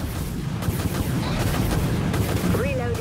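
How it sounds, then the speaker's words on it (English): Missile fire from a ship in the Dreadnought video game, a dense, loud rumble of launches and blasts running continuously, with a rising whine near the end. "Fire missiles, aye, Captain."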